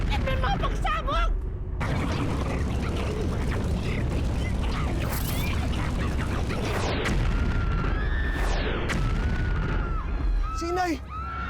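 Continuous loud rumbling and bursting booms of explosions in a Filipino tokusatsu TV series episode, with excited voices shouting over the chaotic din throughout.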